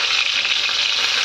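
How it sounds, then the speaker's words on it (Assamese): Fish pieces frying in hot oil in a home kitchen, a loud, steady, dense sizzle and crackle filling the whole moment close up with no voices. "মাছখিনি মই ভাজি লওঁ"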